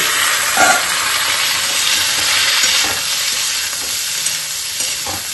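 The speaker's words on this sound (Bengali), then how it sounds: "এই তো কড়াই দিয়েছি তেল আর পাঁচ ফোড়ন তারপরে সিদ্ধ করা ডাটাগুলোকে দেব ঢেলে" Boiled drumstick stems tip into hot oil seasoned with panch phoron in a kadai, setting off a loud, continuous close-up sizzle with a couple of stirring knocks and no voices.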